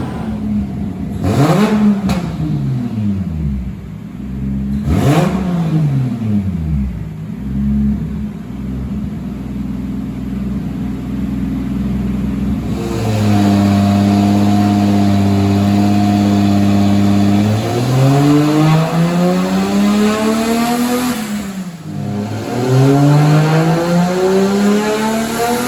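A Nissan 240 with a swapped JZ engine revs hard on a dyno, loud and close, with repeated rising and falling sweeps and a long sustained high-rpm pull. No voices are heard.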